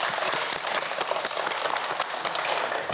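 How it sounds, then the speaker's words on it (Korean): A studio audience on a Korean TV quiz show claps in steady, dense applause for about three seconds, loud and close, with no talk over it. "저희 박수 한번 보내줄까요?"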